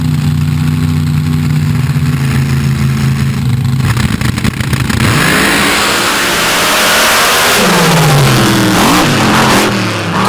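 An 800-plus cubic inch blown, nitrous-fed dirt drag racing car engine roars loudly and steadily at close range, its note rising and sweeping as it revs hard through the whole stretch.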